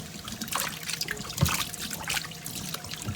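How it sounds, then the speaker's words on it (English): Water trickles and splashes in a basin as vegetables are swished and rinsed in vinegar water, with soft drips and small knocks, close and quiet. "we're gonna go ahead and wash these in some vinegar water"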